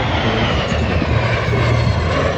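A T-33 jet trainer roars past at an air show trailing smoke, a loud, steady engine rush that fills the whole moment with no voices over it.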